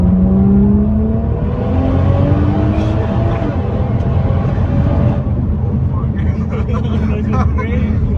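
Nissan GT-R engine revving hard with downshifts, heard from inside the car as a loud, sustained roar with rising and falling pitch, while people talk over it.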